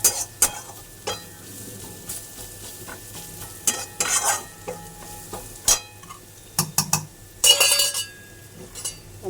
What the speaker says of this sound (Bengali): পাতার সাথে একসাথে একটু ফ্রাই করে নিচ্ছি।